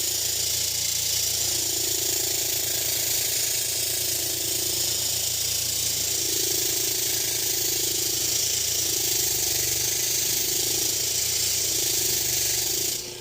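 A firmly bolted-down bench grinder grinds steadily while truing a wheel, giving a loud, continuous harsh whine and rattle that runs unbroken with no talk.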